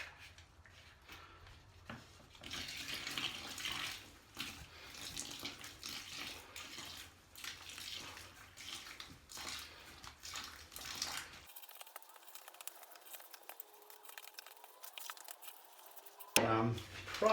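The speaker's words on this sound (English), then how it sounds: "I'm going to start adding some water and stirring." Water poured into grout for penny tile and stirred by hand, a running trickle and wet scraping for most of the stretch, then a near-silent pause and a sharp clunk at the end; faint talk now and then.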